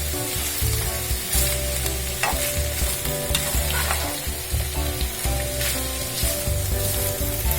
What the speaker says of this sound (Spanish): La vamos a estar mezclando, moviendo para que se dore un poco nuestra chuleta.